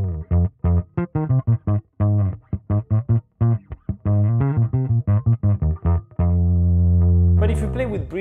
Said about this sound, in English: So this is a Dynacomp emulation and it sounds like this.